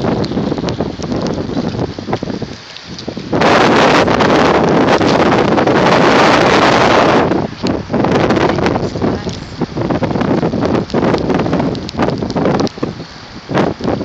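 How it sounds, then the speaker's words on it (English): Strong gusts of wind roar across an exposed waterfront with boats nearby as Tropical Storm Irene arrives, swelling into a loud sustained rush for several seconds before easing back to a steady buffeting. "Here comes some wind."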